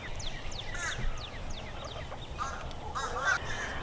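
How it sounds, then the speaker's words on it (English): Chickens call outdoors in a garden, a run of short squawking clucks and a few rising cries, fairly quiet with no talking. "my chickens just came back out to the garden"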